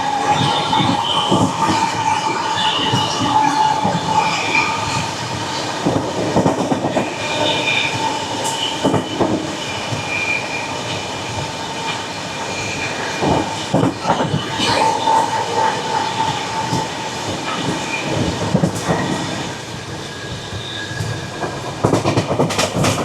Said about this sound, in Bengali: ট্রেন ঢুকছে হেপাকুন্টা স্টেশন।